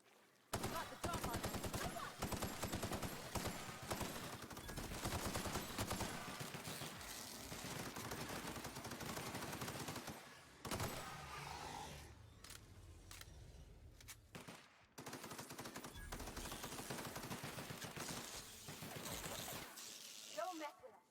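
Rapid, dense gunfire from a level 26 gun in The Outer Worlds crackles almost continuously, with a short lull midway before the bursts resume, loud and close with faint talk mixed in.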